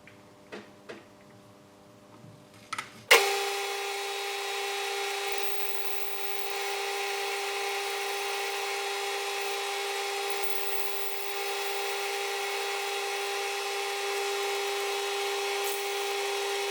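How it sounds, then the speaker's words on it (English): A drill bit spins steadily in a milling machine during repair of a 50-degree magneto, starting after a few faint clicks and holding a constant whine with a slight dip partway through. "I'm just gonna run a drill down to clear that side out for the advancing retard lever"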